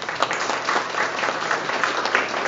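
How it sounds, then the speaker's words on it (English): Steady applause from a symposium audience after a panel talk, a dense, even wash of many hands clapping at a fairly close, consistent level with no speech. "hope you can hear the applause"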